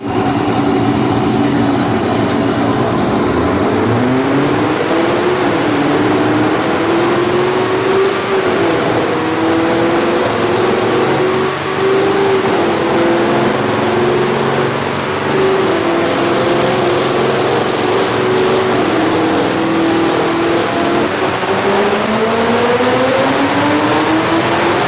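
Ford Mustang engine revving hard on a dyno during a tuning pull, a loud continuous drone that climbs and dips in pitch several times as it loads up, close and steady with no talk.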